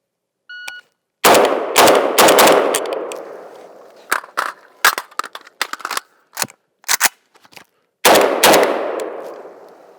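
A Galil Ace rifle in 7.62x39 or 5.45x39 fires a timed drill. After a short beep it lets off a loud, close rapid burst, then scattered single shots and quick pairs, and ends with a final volley. Each report rings out sharply.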